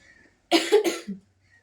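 A person coughs twice in quick succession, close and fairly loud, followed by a short throaty rasp, then quiet.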